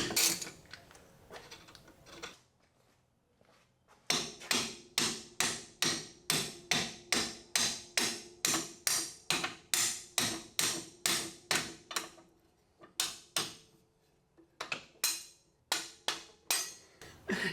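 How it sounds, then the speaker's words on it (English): Loud, rapid hammer blows on metal axle parts during axle removal, struck in steady rhythmic bursts with a couple of short pauses between runs. "anytime I have to beat on something with a hammer"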